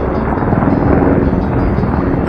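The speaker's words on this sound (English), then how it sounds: "I like seeing the helicopters fly over our heads." Helicopter flying low overhead in a desert setting, a loud, steady rotor roar filling the whole stretch without a break.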